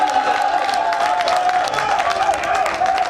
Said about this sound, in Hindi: एक और जोरदार तालियां मेरे भाई के लिए।